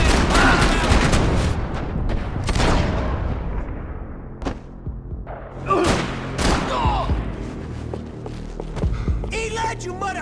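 Gunfire in the Max Payne 3 video game: loud bursts of shots crack in rapid, irregular volleys, with brief lulls between them and a dense clatter near the end, with shouting voices around them.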